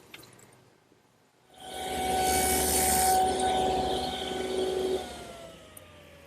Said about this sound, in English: So now I'm machining a mortise in the stiles.